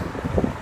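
Wind buffets a microphone while someone walks outdoors on a cold, blustery day, a brief low rumbling whoosh that swells and fades unevenly.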